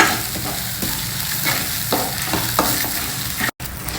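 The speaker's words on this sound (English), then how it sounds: "stir fry this also for just 1 or 2 minutes" Grated coconut stir-fried with roasted spices in a pan, a steady close sizzle broken by repeated scraping stirs of a spoon, with no voices.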